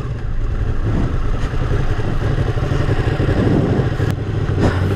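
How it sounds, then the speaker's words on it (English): A Ducati 959 Panigale motorcycle engine runs steadily nearby with a deep, constant rumble and some mechanical clatter, staying loud and even throughout with no talking. "now we're finally ready to roll on the Ducati"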